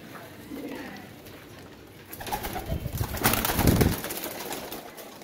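Bagla Teddy pigeons, a mix of male, female and young, give soft low coos, quiet at first and then building to a brief louder burst of fluttering and calls before settling again.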